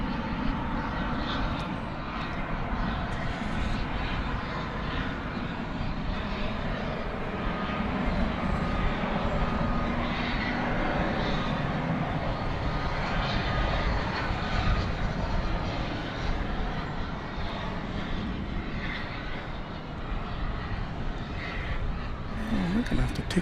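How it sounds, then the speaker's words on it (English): A plane approaching DFW Airport crosses over Highways 121 and 114 in the evening. Its engines make a sustained, broadband roar mixed with road noise, holding steady and fairly loud for over twenty seconds. "This plane, according to Flight Radar 24, is about to cross over Highway 121 and 114"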